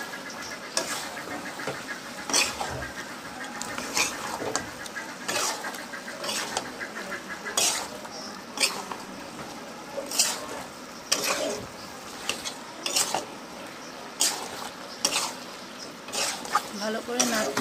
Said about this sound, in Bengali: ভালো করে মাংসটিকে নেড়ে নেব।